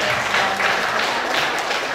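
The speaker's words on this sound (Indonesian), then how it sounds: "Tepuk tangan sekali lagi untuk" Steady, dense applause from an audience at a traditional dance forum, loud and close throughout two seconds, a continuous wash of clapping with no voice standing out.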